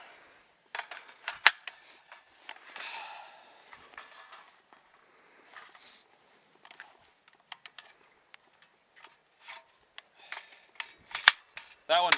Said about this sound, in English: You can charge that one with the charging handle like you just saw.